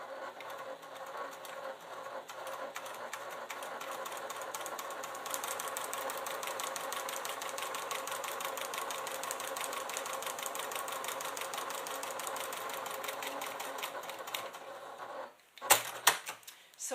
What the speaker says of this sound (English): we're just going to go switch it and start stitching in the other